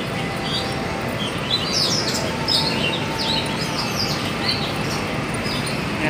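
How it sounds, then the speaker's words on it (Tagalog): Many birds chirp and tweet continuously at a busy outdoor market in Tsuen Wan West, a dense, bright chorus of calls over steady crowd and street noise. "Ang daming ibon."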